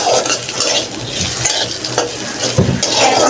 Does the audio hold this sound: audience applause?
no